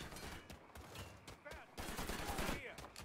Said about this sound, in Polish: Tam strzela, kurde.